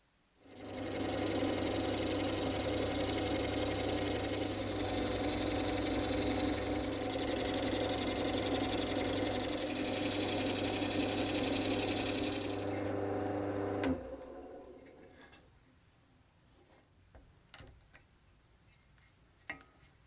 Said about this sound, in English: The next thing I'm going to do is drill some holes